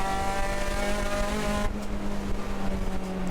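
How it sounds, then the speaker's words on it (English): A race car's brakes lock up on a cold track with cold tires, giving a sustained tonal tire squeal over steady engine roar that cuts off sharply partway through as the car continues on. "Here, brakes just locking up."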